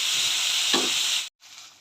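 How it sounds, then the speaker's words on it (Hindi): Tomatoes frying in a pan over a low gas flame give a steady, soft sizzling hiss that cuts off abruptly near the end, then resumes more faintly. "टमाटर अच्छे से नरम होने तक मैं इसे फ्राई करूंगी"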